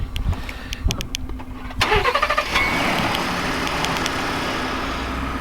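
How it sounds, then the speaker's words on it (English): A pickup truck's engine is started in a snowy driveway: ticking and clicks, then a loud cranking whine that catches and settles into a steady, close, rumbling idle. "I'm gonna start my truck."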